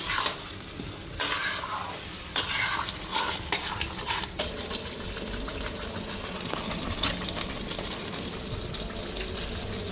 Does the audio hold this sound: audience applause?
no